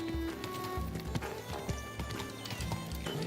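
Horse hooves clip-clop steadily as a horse is ridden in Kingdom Come Deliverance 2, the rhythmic footfalls close and continuous, with an occasional whinny and game ambience underneath.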